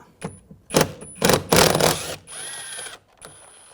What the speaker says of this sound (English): There's a screw in here, use a T30 socket.